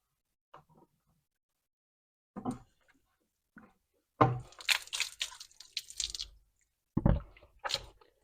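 Water drips and splashes from a dirty cylinder filter cartridge being lifted out of its housing, coming in short wet bursts separated by silence, with a longer sloshing run in the middle.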